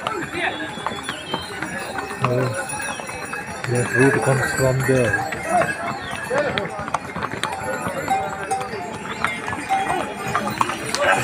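Horses walk along the Kedarnath trekking route, hooves clip-clopping in an irregular rhythm close by while someone talks over them and crowd murmur fills the background.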